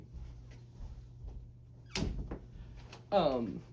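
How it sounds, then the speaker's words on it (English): A room door is shut indoors, with a solid thunk about halfway through followed by a second knock. The sounds are fairly quiet and come between soft background noises and brief vocal sounds. "Let me shut my door real quick."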